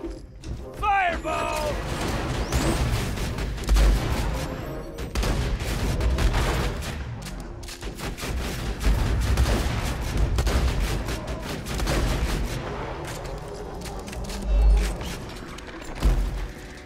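Rapid gunfire in the video game Tiny Tina's Assault, with dense bursts and booming shots running nearly continuously, loud and close, while someone talks over it.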